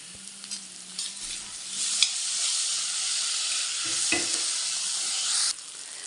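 Chopped tomato and softened onions sautéing in a pan for bitter gourd curry, a continuous bright sizzle with occasional spoon knocks and scrapes, close and steady before cutting off near the end.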